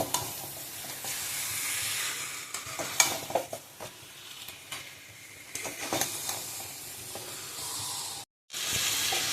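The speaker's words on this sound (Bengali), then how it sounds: "ম্যারিনেট করা যে মাংসটা সেটা এবার দিয়ে দেবো, দিয়ে গ্যাসটাকে একদম সিমে রেখে আগে খানিকক্ষণ নাড়িয়ে নিতে হবে" Marinated chicken in yogurt and spices frying in a pot over a low gas flame for chicken curry. A steady close sizzle runs under repeated scraping stirs, with a brief silent gap near the end.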